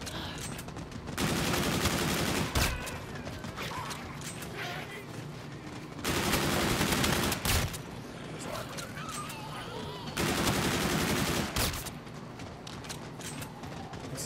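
Video game gunfire comes in three long bursts of rapid automatic shots, loud and close, separated by short pauses, with a few single sharp cracks and faint talk underneath.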